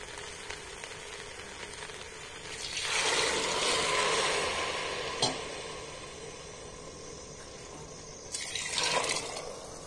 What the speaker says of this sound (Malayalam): രണ്ട് ഗ്ലാസ് വെള്ളം ഒഴിച്ചു കൊടുക്കാം